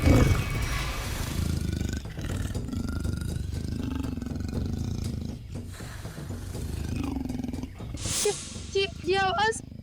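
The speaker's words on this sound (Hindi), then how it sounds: "तेंदुए के गुर्राने की आवाज है।" A leopard's low growl rumbles beneath a tense scene in a crime drama, steady and fairly loud, with high-pitched cries breaking in near the end.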